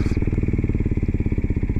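Kawasaki Z125 motorcycle fitted with Raximo brake and clutch levers, idling engine creeping forward as the clutch is eased out slightly: a steady, close, low rhythmic engine putter with no talk.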